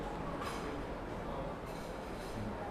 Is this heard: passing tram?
yes